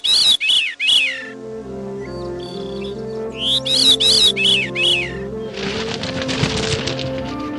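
A small songbird whistles bright, clear phrases in short repeated bursts, sung close and alone over a soft sustained musical backdrop.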